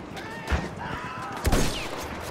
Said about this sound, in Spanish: Vale, una ametralladora allí.